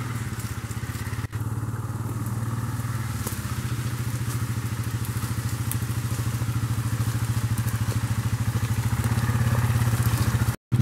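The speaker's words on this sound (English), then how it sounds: "So we got our first four-wheeler haul back to the yurt area." A four-wheeler ATV hauling a load on a homestead: a steady, close engine drone with a throbbing low rumble and rattling clatter that grows slightly louder, ending with a brief cut.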